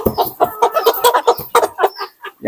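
Sentul breed chicken clucking at close range in a rapid series of short, sharp clucks and squawks with brief gaps, loud and alone.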